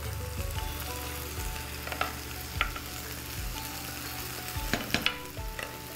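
Garlic and ginger frying in a hot pan, a steady close sizzle with a few scraping stirs and brief spatters, no voice over it.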